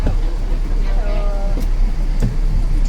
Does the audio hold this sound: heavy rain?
no